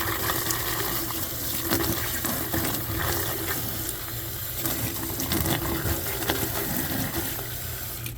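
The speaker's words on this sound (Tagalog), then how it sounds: "patuluan natin ng tubig" Water pours and splashes steadily onto snow outdoors in a cold Canadian winter setting, a continuous close rushing wash with no talk over it.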